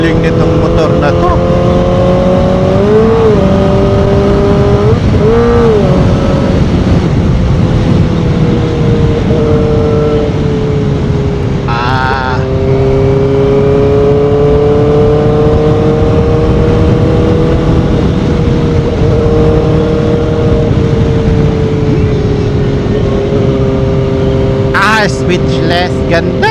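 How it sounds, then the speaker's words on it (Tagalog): A motorcycle engine hums steadily while riding, its tone rising and falling with shifts in throttle, loud and close throughout with some brief higher-pitched blips and wind noise. "Ganda ng sound, ganda sa feeling nitong motor na to."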